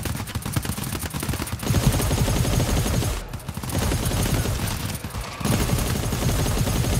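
Dense, continuous gunfire from the co-op shooter GTFO, rapid shots overlapping into sustained volleys for most of the stretch, loud and close with brief lulls.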